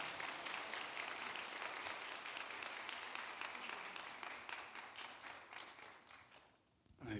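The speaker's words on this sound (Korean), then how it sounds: "뜨거운 박수로 한번 환영할까요?" A church congregation at a late-night worship service applauds warmly to welcome a missionary preacher, dense clapping that runs steadily for several seconds before thinning out and fading near the end.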